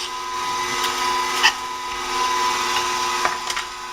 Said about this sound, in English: And I'm grinding my own chicken.